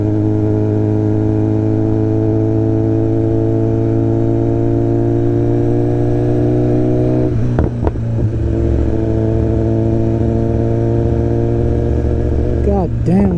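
A loud BMW S1000RR motorcycle engine idles and revs through its exhaust with a deep steady rumble throughout, with brief throttle blips near the middle and end; someone speaks over it.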